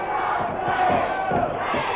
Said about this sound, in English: The noise that seems to affect him so much when the crowd gets going with that noise, and Miller backs off.